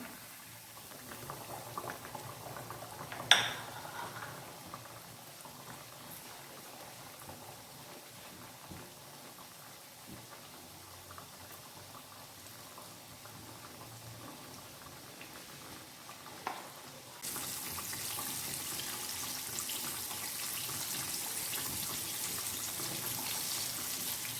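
Chicken zinger patties frying in oil over medium heat give a steady, faint bubbling sizzle throughout, with a couple of brief clinks, close and even, and no talk.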